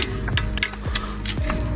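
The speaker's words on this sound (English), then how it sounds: "now removing the brake pads" Brake pads being pulled out of a Subaru Impreza 4-pot brake caliper, giving close metallic clicks, scrapes and small rattles in quick irregular succession.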